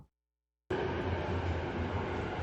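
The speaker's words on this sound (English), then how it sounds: "This is the Narita Express." Interior of the Narita Express airport train in Japan: after a brief silence, a steady low rumble and hum of the moving railcar sets in and continues evenly, with no talking.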